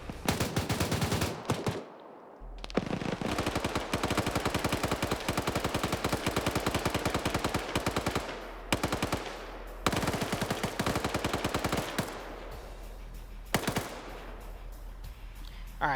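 Rapid bursts of 14.5 mm heavy machine gun fire from a BRDM in a military video game, loud and sustained, with short gaps between strings of rounds and no voices.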